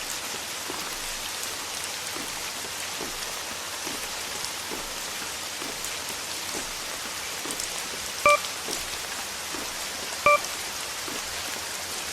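Steady rain pattering on surfaces in a dark horror-style video game level, a constant hiss with scattered drops, plus two short electronic beeps near the end.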